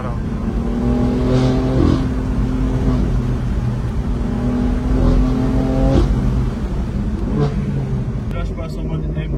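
A BMW M4 F82 Competition, 450 hp as standard and fitted with an M Performance exhaust line, accelerates hard from up close, its engine note climbing through the gears with a brief lift near the end. A voice talks over the engine.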